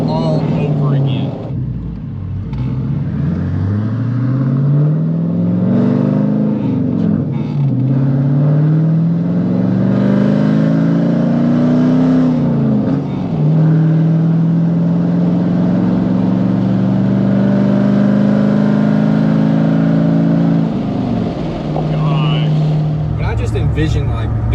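A manual V8 truck with an equal-length exhaust revs repeatedly, its deep engine note rising and falling in long loud pulls, close up, with no talking over it.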